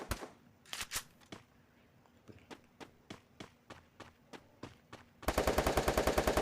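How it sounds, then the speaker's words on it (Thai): Gunfire in a video game: scattered single shots and short bursts crack at uneven intervals, then a loud, rapid automatic burst hammers out steadily at the end. "เสียงใครยิงกัน"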